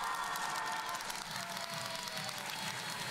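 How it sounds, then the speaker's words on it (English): Steady, dense applause and cheering from a large crowd as 27-year-old Russian biathlete Anna Malenina leaves the starting area in a Sochi standing/visually impaired middle-distance biathlon race. The roar stays loud and continuous throughout, with no talk over it. "Anna Malenina, the 27-year-old Russian, gets a big cheer as she leaves the starting area"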